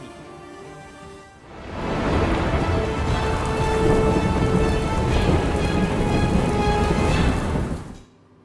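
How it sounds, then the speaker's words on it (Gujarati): Heavy monsoon rain in Gujarat swells in after a quiet moment into a loud, dense, steady downpour, then cuts off sharply near the end, with no voices. "ચોમાસાએ ધોધમાર મહેર વરસાવી"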